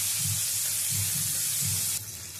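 Chopped onion sizzles steadily in hot oil in a pan, a loud continuous hiss that drops off slightly near the end, with no talking.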